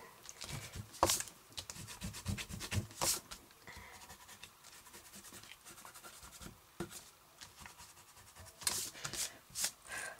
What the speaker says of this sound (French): Donc je vais venir gommer toutes mes mesures.